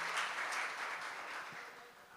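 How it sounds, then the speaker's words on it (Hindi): Audience applause at a Hindi poetry gathering (kavi sammelan) in Avantipur Badodiya, a steady wash of clapping from a crowd, fairly distant and soft, fading slightly over two seconds. "एक बार आप सभी इस कवि सम्मेलन के लिए एक बार जोरदार तालियां बजा दीजिए"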